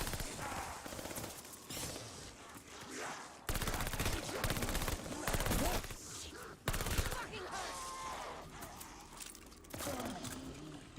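PPSh submachine gun fire in a zombie video game, with long rapid bursts of automatic shots separated by short pauses, fairly loud over game background sounds, with some talk mixed in.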